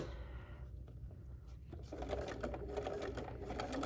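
Sewing machine stitching quilt binding at a mitered corner, a rapid mechanical whirring and clatter that starts softly and then runs steadily and close.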